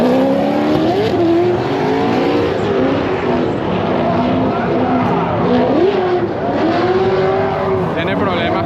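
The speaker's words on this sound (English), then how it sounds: "Esperemos que Tom haya podido arreglar el carro y pueda correr la pared" Race car engines at an OSW Pro-Am track competition rev and drone with shifting pitch throughout, loud and close, alongside brief tire squeal and people talking over the engine noise.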